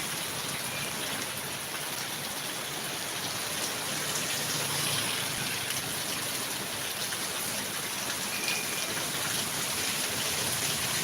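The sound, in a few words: night rain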